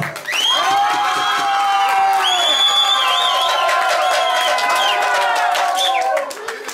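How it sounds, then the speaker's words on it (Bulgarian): Cheering and applause ring out for a couple at a prom (graduation ball), with whoops and shouts over steady clapping that holds loud for several seconds before tapering off. "Така, моля аплодисменти за Асен и Теодор."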